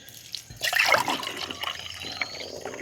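Young coconut drink spills and splashes, a brief burst of liquid pouring and trickling followed by softer dripping, close up with no talking.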